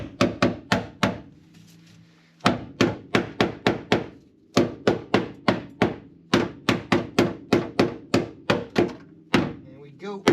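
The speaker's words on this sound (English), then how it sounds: "give it a love tap with the old trusty hammer" Sharp hammer taps strike frozen sound deadening on a car floor in quick clustered bursts of five or six blows, each set separated by a short pause, loud and close with a faint background.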